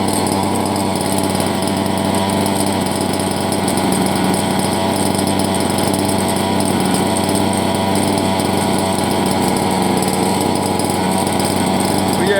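A King Motors X2 engine runs steadily in a Red Cat XT RC car, giving a loud, continuous high-pitched buzz with no breaks, close by and early in the morning.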